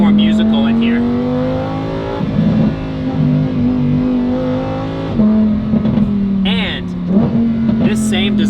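A Lamborghini Huracan STO with a titanium exhaust and valve control is held near 3,000 rpm, giving a loud, steady, tonal drone with brief blips and rises in pitch, close by, while someone talks over it.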